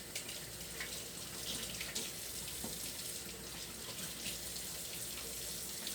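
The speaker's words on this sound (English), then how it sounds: "So let's start with washing our hands." A tap runs steadily for hand washing, a continuous close hiss of flowing water splashing into a sink with small irregular splatters as hands move under the stream.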